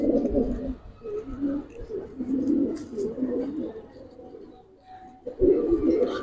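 Silver fighter-strain pigeons in a collection cooing steadily in low, rolling bursts, close and fairly loud, with brief pauses and faint background noise.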